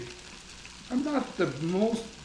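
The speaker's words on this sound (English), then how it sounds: "Those mushrooms are starting to look like they are wilting and sauteing very well." Mushrooms sauteing in a pan for steak tips and mushroom gravy, a steady close sizzle and frying hiss with stirring, while a person talks over it.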